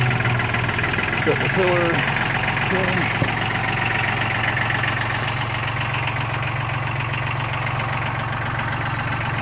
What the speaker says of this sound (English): Three-cylinder diesel, sounds really nice.